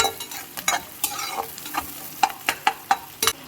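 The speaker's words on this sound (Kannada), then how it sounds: "ಈರುಳ್ಳಿ ಚೆನ್ನಾಗಿ ಫ್ರೈ ಆಗಿದೆ." Onions frying in a tempering on medium-high flame, with a spatula scraping and stirring in quick repeated strokes over a steady sizzle, close and alone.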